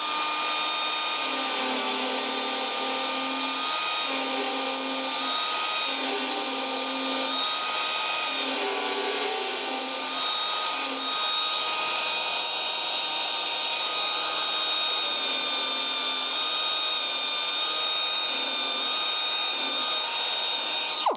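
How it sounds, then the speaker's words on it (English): A Dynabrade Dynafile 2 belt file grinds down a weld on a car door with a continuous high, buzzing whine whose pitch dips and rises as pressure changes, steady and close throughout. "show us how the Dynafile 2 works when it's in action here"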